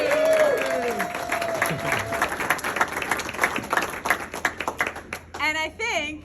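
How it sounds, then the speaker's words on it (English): Applause from an audience at a congresswoman's political speech, a dense crowd patter with cheering voices rising and falling for several seconds, then a sudden burst of whooping near the end. "this is an applause line"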